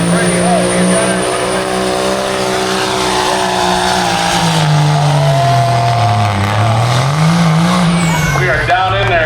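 A loud, close pulling-truck engine roars continuously at a county fair truck pull, its pitch dipping and climbing as it builds boost and drags the sled down the track.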